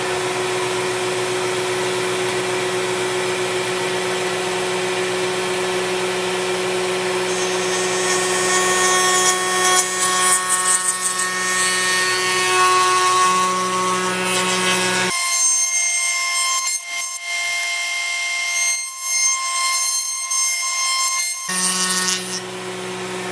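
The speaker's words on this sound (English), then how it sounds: "Going to do this on the router." A router cuts into a rubber stamp with a loud, continuous high whine and dense buzzing, the motor pitch and grinding texture shifting as the bit works through the material, then briefly dropping and resuming.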